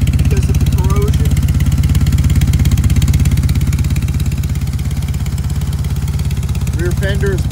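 A BMW R 1200 C motorcycle from 2002 idles steadily nearby, its engine a loud, even low throb with a mechanical clatter running throughout, while a voice talks briefly over it.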